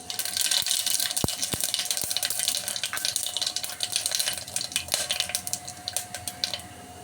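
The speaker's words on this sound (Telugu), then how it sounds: "ఆయిల్ హీట్ అయిందండి దీంట్లో కొద్దిగా షాజీరా కొంచెం ఇంచు చెక్క రెండు లవంగాయలు వేసుకోవాలండి" Shahjeera, cinnamon and cloves sizzling in hot oil in a home kitchen pan for potato chana dal curry, a steady dense crackle with a few sharp pops throughout, no talking.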